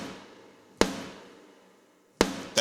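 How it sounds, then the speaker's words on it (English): A triggered snare drum sample in Ableton Live cracks sharply, rings out with a decaying tail, then sounds again, with another hit right at the end. "here's a snare, trigger snare."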